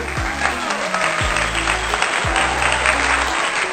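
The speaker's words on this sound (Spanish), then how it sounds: "Un aplauso, por favor." Steady, loud applause from a crowd continues throughout, with deep thumping low sounds recurring every second or so beneath it.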